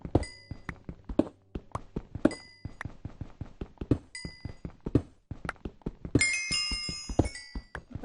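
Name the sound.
mining blocks in Minecraft video game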